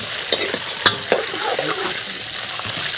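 Cashew nuts fry in ghee in a kadai, a steady close sizzle with occasional sharp pops and stirring clinks, no talk.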